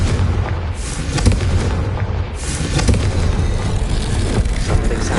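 Confringo blasting spell from the game Hogwarts Legacy, a loud booming explosion with rumbling blasts and bursts that keep rolling, heavy and close.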